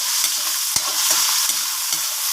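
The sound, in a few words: sautéing onion, tomato and ginger in a pan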